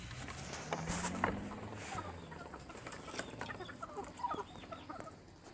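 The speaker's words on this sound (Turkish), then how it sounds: "Evet tavuklar da burada" Chickens clucking in a new coop with a rooster nearby, scattered soft clucks and a few wing flaps at moderate distance, fairly quiet.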